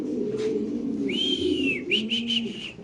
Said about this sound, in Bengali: মাশাআল্লাহ খুব সুন্দর মুন্ডিয়ান কবুতর আপনি দেখতে পাচ্ছেন।